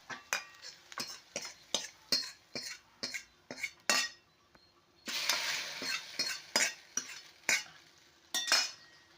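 Sautéed shallots and curry leaves are tipped into a coconut-milk curry and stirred, with a rapid series of sharp metallic spoon clinks against the pan, a burst of sizzling splatter midway, then more evenly spaced clinks.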